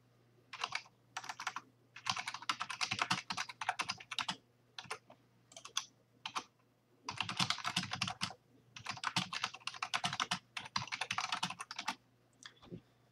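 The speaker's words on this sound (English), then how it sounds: "Once you've typed your subject and message, hit Send Message to communicate with the other individual." Rapid bursts of typing on a computer keyboard while composing a message, with clustered keystrokes separated by short pauses, fairly close and clear with no talk.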